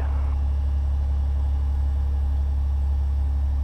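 Piper PA32 light aircraft taxiing to parking after landing at Cosne-sur-Loire, a steady loud low engine drone with constant rumble throughout.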